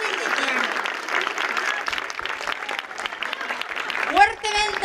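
Applause from the audience at an outdoor village fiesta comedy night rises and falls in clapping bursts, with voices and cheers mixed in and a shout near the end.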